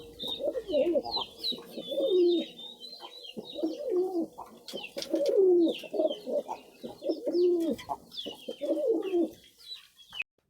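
Domestic pigeons in a home coop coo repeatedly in throaty, rolling phrases, close and clear, with a few brief higher chirps and no talking.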